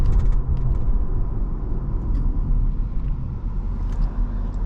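A 2002 Mercedes-Benz SL500 Silver Arrow V8 pulls hard under acceleration, giving a steady, heavy low rumble with road noise heard from inside the car, punctuated by a few faint clicks.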